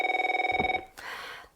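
A telephone rings in a church vacation Bible school skit, one loud electronic trilling burst that cuts off, followed by a short muffled clatter as the receiver is picked up.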